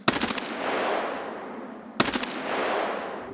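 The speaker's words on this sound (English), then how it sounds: "Here's how Gunfire sounds with the headphones outside." Automatic gunfire outdoors in the video game Escape from Tarkov, heard through in-game headphones: two short, sharp bursts about two seconds apart, each trailing into a long muffled outdoor echo.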